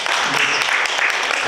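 Church congregation clapping in welcome for a returning elderly member in a wheelchair, a brief dense burst of applause filling the room.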